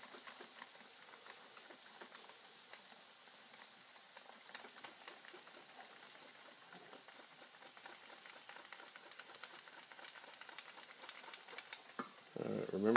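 Sausage fries in a pan with a soft, steady sizzle and crackle that holds evenly throughout, faint and close, with a brief clatter near the end.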